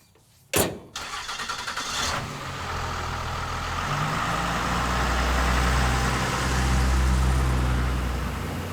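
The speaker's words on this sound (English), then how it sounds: "I like driving this truck" Roadkill ramp truck starting with a sharp crank, then its engine settling into a steady, loud idle-to-driving rumble with a low drone building over several seconds.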